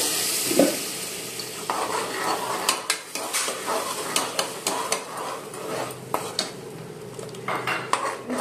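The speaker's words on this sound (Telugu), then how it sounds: "ఒక్క ఉల్లిగడ్డ తాలింపులు వేసేసి అందులో మిక్సీ పట్టుకున్న ఈ పేస్ట్ అనేది వేసేసుకోవాలి" Ground masala paste fries over an onion tempering for an egg masala curry with a low sizzle. A metal spoon clatters and scrapes against the pan in quick, uneven strokes, close and with no voices.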